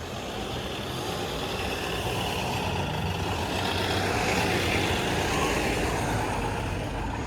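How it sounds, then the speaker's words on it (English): A 2017 Nova LFS city bus on Toronto's 11 Bayview route passes on a midtown street, a loud, close, steady engine roar and road rumble filling the whole stretch. "there's the 11 Bayview bus"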